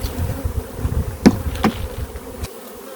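Close, droning buzz of honeybees being scooped from a hive during a varroa mite wash, with a few sharp knocks and taps mixed in, continuing steadily.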